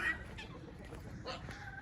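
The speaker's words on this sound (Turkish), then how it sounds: "Atak tavuklarımız var." Faint clucking of Atak chickens in a hobby coop, soft and somewhat distant over a steady background hiss.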